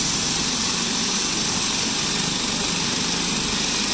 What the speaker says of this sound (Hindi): यहाँ से जाने को तैयार है हेलीकॉप्टर